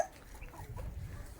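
Free-range country chickens kept as parent stock in a poultry shed cluck faintly and intermittently over a low, steady background rumble, with no voices.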